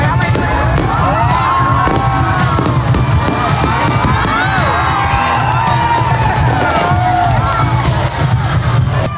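Fireworks display at a Christmas village lighting event in Calasiao, with a dense, loud crowd cheering, whooping and shouting throughout, thuds and crackles of bursts mixed in beneath the steady roar of voices.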